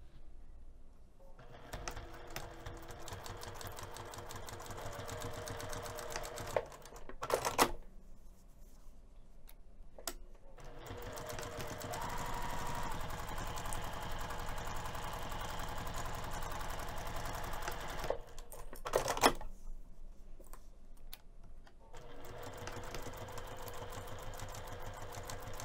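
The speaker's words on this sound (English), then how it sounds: "We're gonna be sewing from the marking down and then along the bottom edge." A sewing machine set to a 2.5 mm stitch sews a quarter-inch seam on a coin purse, whirring steadily in several long runs separated by short pauses and sharp clicks.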